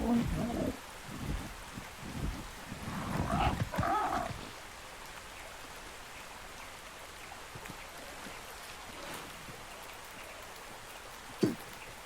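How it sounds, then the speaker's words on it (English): Rain falls in the video game ARK: Survival Evolved on The Island near water, a soft, steady hiss that continues throughout, with a louder burst of splashy noise early on and a sharp click near the end. "the water is a little bit loud, but it's also raining at the moment"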